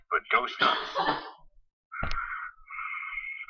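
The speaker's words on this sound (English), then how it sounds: "That was a cough" Someone speaks briefly, then after a short pause gives a single sharp cough that trails into a rough throaty rasp, close to the microphone.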